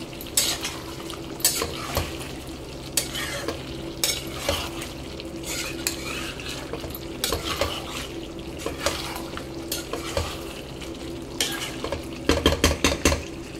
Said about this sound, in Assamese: এটা পটল আলু ভাজি হৈ আছে